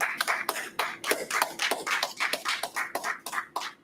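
Hands clapping in a steady, fast rhythm, roughly twenty sharp claps close to the mic, alone without talk.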